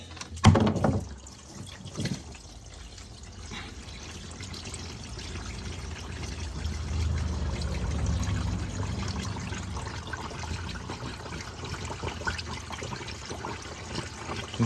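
Thin, flushed engine oil draining from the plug of a 2023 GMC Yukon XL Denali Duramax LM2 diesel during an oil change: a sharp clunk as the plug comes out, then a steady pouring, splattering stream that swells and continues.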